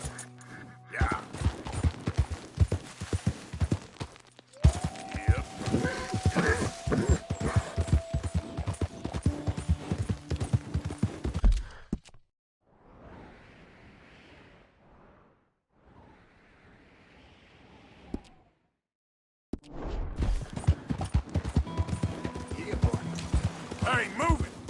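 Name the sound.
horse walking, hooves clip-clopping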